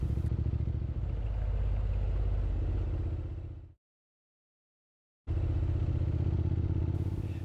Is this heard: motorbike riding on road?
yes